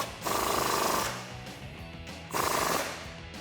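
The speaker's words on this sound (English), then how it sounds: "Once that's threaded in, what we can do is tighten that up with the same 18mm socket." Impact wrench driving a Jeep Wrangler JL shock bolt with an 18mm socket, two loud rattling bursts about a second long each, separated by a quieter pause.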